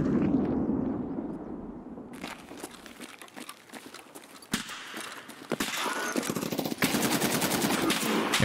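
M1A rifle gunfire in a video game comes as a series of sharp, close shots in bursts, scattered through rustling movement and footsteps, with no talking.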